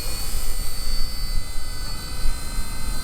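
Toy RC helicopter, an RC ERA C032 1/48 scale Huey, flying with a loud continuous high-pitched rotor and motor whine close by, steady with slight surges, alone without speech.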